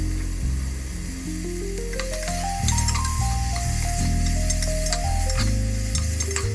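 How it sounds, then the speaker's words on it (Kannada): Onions and tomatoes frying in a pan for dal, a steady close sizzle with stirring scrapes, overlaid by a sustained melodic tone stepping up and down throughout, no talk. "ಆನಿಯನ್ ಒನ್ಸ್ ಫ್ರೈ ಆದಮೇಲೆ ಟೊಮ್ಯಾಟೋನ ಹಾಕೋತಾ ಇದ್ದೀನಿ"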